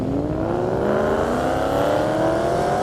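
Two drag racing cars launching side by side, a 1,000-horsepower Cadillac CTS-V and a 750-horsepower Mustang GT500 on E85 ethanol fuel, at an airport airstrip: loud, steady engine roar with rising pitch as both accelerate hard, no voices.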